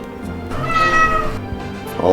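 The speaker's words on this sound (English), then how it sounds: "What are you meowing about?" A cat meows once in The Legend of Dragoon video game, a single drawn-out meow in the middle over a steady background of game sound.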